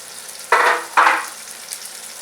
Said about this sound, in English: What we're going to do is just sear one side for about 2 or 3 minutes.